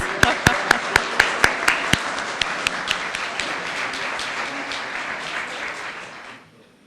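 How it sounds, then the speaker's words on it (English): An audience at the official opening of the restored historic Henry County Courthouse gives a round of applause, with a few loud, sharp claps standing out at the start before the dense clapping steadily fades away. "Now we can give you all a round of applause."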